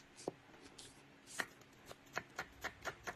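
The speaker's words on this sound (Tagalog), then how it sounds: "maghiwa muna tayo ng mga aromatics. Sibuyas, siyempre hindi mawawala." Knife chopping onion on a worn cutting board, a handful of sharp, quiet taps, sparse at first and then settling into an even rhythm.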